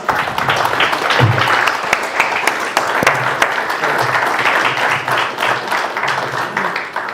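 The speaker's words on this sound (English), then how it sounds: "Let's give a round of applause." A crowd claps steadily in a dense, even patter of applause, fairly close and sustained, with faint voices underneath.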